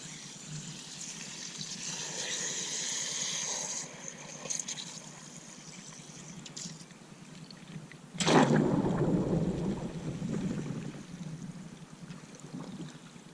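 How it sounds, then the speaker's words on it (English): Water trickles and gushes from an opened irrigation lawn sprinkler valve with its top unscrewed, a steady wash of flow that swells louder partway through. "Got a little bit of water coming out."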